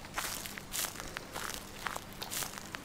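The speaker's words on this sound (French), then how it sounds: "J'entends encore les pas" Footsteps crunch along at a steady walking pace in the horror video game Slender, a continuous run of soft close-up steps with no other sounds over them.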